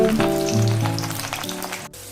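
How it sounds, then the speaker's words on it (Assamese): Potato strips cut like French fries frying in hot oil, a steady close sizzle with a faint hum underneath, no voices. "ৰঙচুৱাকৈ ভাজি লম।"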